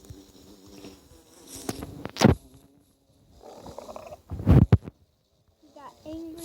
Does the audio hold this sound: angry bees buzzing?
yes